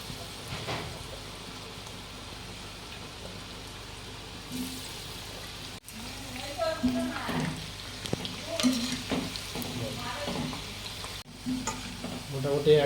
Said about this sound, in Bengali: এবার তেলে ডিপ করি। এর একটা সিক্রেট ব্যাপার আছে, কেকে ডবল ফ্রাই করতে হয়।